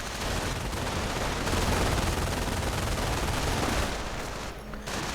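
German machine gun and rifle fire from a WWII video game battle pound out in a dense, loud, continuous barrage of overlapping bursts and shots, easing slightly toward the end, with no voices.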